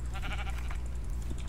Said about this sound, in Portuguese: Olha essas ovelhas.